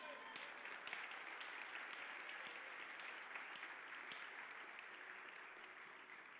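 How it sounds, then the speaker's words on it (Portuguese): Church congregation applauding during a communion service, a sustained, even wash of clapping that fades slightly toward the end. "Você pode aplaudir Jesus."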